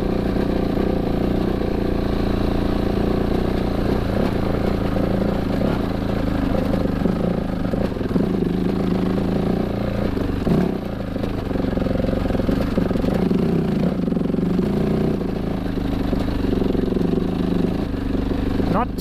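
A KTM 690 motorcycle climbs a bumpy, trenched dirt trail at low revs, its engine a loud, steady, close drone with occasional clatter throughout.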